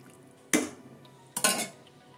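A spoon stirring a non-vegetarian dish in a metal pan at home, two distinct bursts of clanking scrapes and clinks about a second apart, close and clear with quiet in between.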